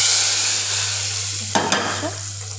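Bottle gourd vegetable curry sizzles steadily in a hot pan of oil during tempering, with a couple of sharp bursts as ingredients are added and stirred, close and loud with no talk.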